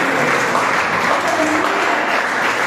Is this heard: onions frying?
no